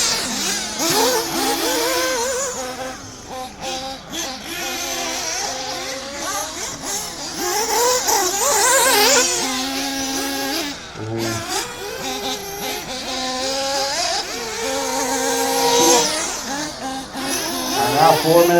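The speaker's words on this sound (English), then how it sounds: "Car sounds like it could be a little lean on that bottom end." A race car engine running lean on the bottom end revs and drones around a track, rising and falling in pitch as it passes, with a slightly uneven, sputtering edge.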